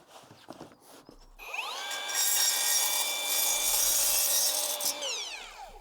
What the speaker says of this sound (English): I did have to cut down a length using my miter saw